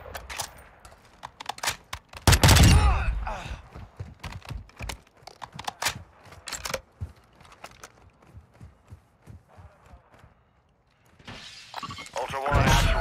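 Gunfire in Call of Duty Warzone 2.0 DMZ, with a Fennec among the weapons in play: a burst of loud sharp shots early, then scattered cracks and impacts, and a fresh loud volley at the end, with a voice speaking between them.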